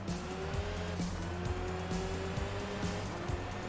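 Citroen Xsara engine revving and tires squealing on dirt in the PS2 racing game Enthusia Professional Racing, a steady engine drone with rising and falling pitch, gear shifts and repeated tire scrub, loud and continuous with no talk.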